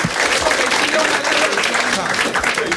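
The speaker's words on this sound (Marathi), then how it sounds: "चला दोघांसाठी टाळ्या वाजवा." A live crowdwork comedy audience claps steadily and loudly for two people near the stage, a full, continuous patter with voices mixed in.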